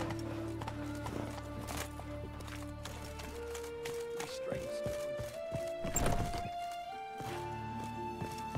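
The horse Roach's hooves clip-clop in a steady walking rhythm in The Witcher 3, close and clear, with game music and a few sharper hoof knocks.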